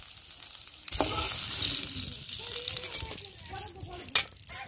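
Eggplant pieces, salted and coated with turmeric, fry in hot oil in a pan for a Bengali dish, giving a steady broadband sizzle with a brief louder burst near the end, while a person talks over it.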